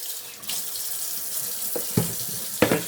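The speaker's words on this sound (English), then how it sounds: "We're gonna rinse the gizzards off." Chicken gizzards are rinsed under a running kitchen tap, a steady splash of water into the sink with a few louder bursts as the flow hits the meat.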